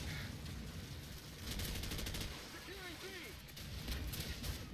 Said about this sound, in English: Man, they're just getting these airstrikes one after another.